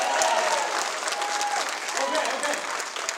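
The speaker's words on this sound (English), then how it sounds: "Give me that applause." An audience at a youth leadership awards show claps in a dense, sustained round of applause, loud and even throughout with a faint cheer or two mixed in.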